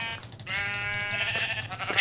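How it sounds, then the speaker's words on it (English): A sheep in the video game Tekkit lets out a single drawn-out, wavering bleat, clear and close over faint game ambience. "sheep"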